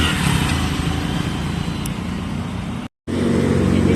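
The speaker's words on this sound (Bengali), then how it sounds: "রাস্তাটা যে খুব ব্যস্ত রাস্তা।" Steady, loud roar of cars and heavier vehicles on a busy town road near a market, continuous traffic rumble with a brief dropout near the end and no talk.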